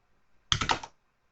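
A quick burst of clicking keystrokes on a computer keyboard as a command is typed, a few close taps within half a second, then silence.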